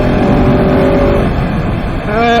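Supermoto SM700 motorcycle engine running steadily and loud while braking into a corner, then the revs rise again as it accelerates out.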